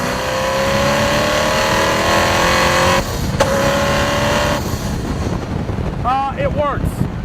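Hennessey Venom GT tuned supercar driving, its engine droning loud and steady from inside the cabin, with rising revs and a gear change before the note shifts near the end.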